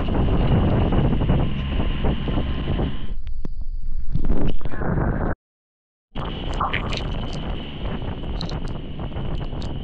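Strong wind roars and buffets the microphone almost continuously, with a brief full dropout midway before the heavy gusting resumes.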